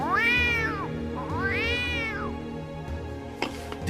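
A cat meows twice up close in long, drawn-out rising and falling cries, then a brief sharp noise follows, with no talking.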